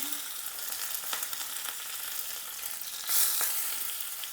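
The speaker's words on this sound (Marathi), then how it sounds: "यात आपण राई टाकूया, हिरवी मिरची" Mustard seeds and green chilies hit hot oil for a tadka, giving a steady, moderate sizzle with scattered small pops and a brief louder burst of crackling near the end, with no voices.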